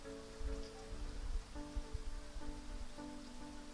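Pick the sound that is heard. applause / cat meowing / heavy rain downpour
heavy rain downpour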